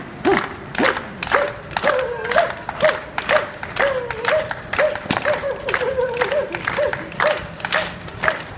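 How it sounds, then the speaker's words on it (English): A street audience at a Covent Garden performance does a slow handclap: sharp, spaced claps ring out in a steady rhythm while scattered shouts and cheering voices carry over them. "Everybody, slow hand clap."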